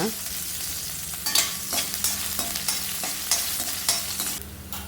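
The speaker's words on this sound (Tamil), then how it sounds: "இஞ்சி போட்டு நல்லா ஃப்ரை ஆகணுங்க" Ginger frying in a pan while being stirred, a steady close sizzle broken by repeated scraping stir strokes, with no voices over it.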